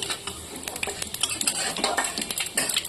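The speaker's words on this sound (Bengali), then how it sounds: "কড়াইয়ে দিয়ে দিচ্ছি শুকনো লঙ্কা, তেজপাতা, রাঁধুনি আর পাঁচফোড়ন, জিরেও দিয়েছি একটু।" Dry red chillies, bay leaf, radhuni and panch phoron with cumin go into hot fish-frying oil in a wok. A spatula scrapes and clinks steadily against the metal over a soft sizzle, with no talking.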